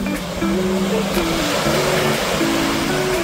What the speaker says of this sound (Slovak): Teraz tu máme troška také vlny